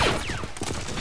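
Gunfire in the Clones of War mod game, a dense burst of overlapping shots with a falling whistle partway through, loud and continuous across the moment.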